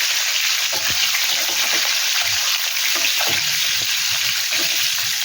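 Something frying in a pan over a low flame with salt until browned, a steady close hiss of sizzling oil with a few faint stirring knocks and no voices.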